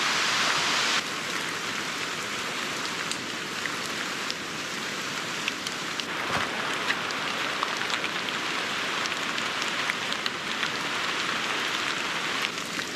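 Heavy rain pours steadily onto a tarp at a wet day camp in the woods, a loud, even hiss with scattered sharper drops and no talking.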